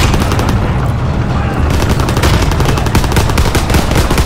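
Rapid, dense pistol gunfire in the video game Call of Duty: WWII crackles continuously, loud and close, with brief pauses between volleys and no clear talking.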